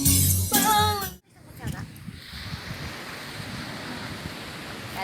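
Sea waves wash steadily onto a beach at Fujairah, a broad continuous surf hiss mixed with wind buffeting the microphone; a voice speaks briefly at the start before the waves carry on alone.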